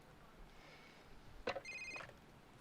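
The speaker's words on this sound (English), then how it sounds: "Will you answer the fucking phone?" A telephone rings in a TV drama scene, a faint ringing tone heard briefly after a short knock-like burst, distant and quiet in a hushed room.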